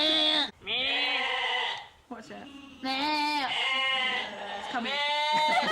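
Loud, close bleating from a sheep comes in several long wavering calls with short gaps between them, and a person says a few words.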